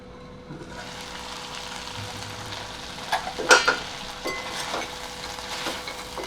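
Cluster beans and potatoes with turmeric, chilli powder and goda masala are stirred in a pan, giving a soft steady sizzle with a few louder spoon scrapes midway.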